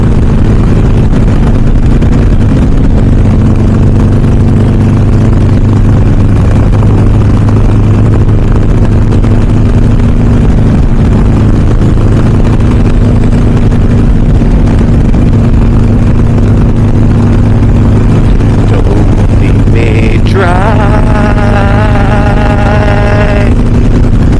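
A Harley-Davidson Iron 883 fitted with a Hammer 1250 big-bore kit rides along in fifth gear at about 3,000 RPM, giving a loud, steady low engine drone with wind rush throughout and a brief rising tone near the end.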